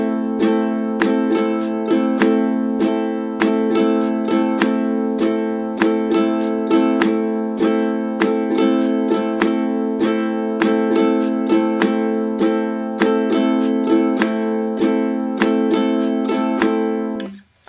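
A ukulele is strummed in a steady beginner strumming pattern along with the beat, with bright, evenly repeating chord strokes and no voices throughout.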